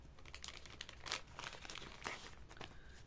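Soft plastic packaging crinkles and rustles in quick, irregular bursts as parcels are unpacked, close and fairly quiet, with no talking.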